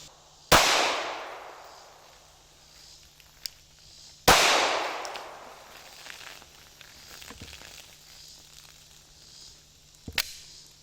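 Glock 17 Gen 5 pistol fired at a metal target: two sharp, loud shots a few seconds apart, each with a long ringing decay, followed by a fainter crack near the end, with no talking.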